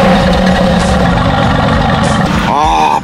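A Mercedes-AMG GT S Edition 1 V8 rumbles loud and close, a deep, continuous engine roar that holds steady, with a brief voice-like sweep near the end.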